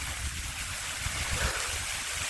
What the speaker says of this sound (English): It's just soothing hearing that waterfall and hitting those rocks